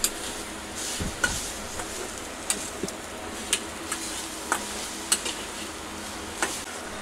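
A spoon scrapes and taps against a pan as modak filling is roasted and stirred, sharp metallic clicks recurring at irregular intervals over a faint sizzle, with no voices.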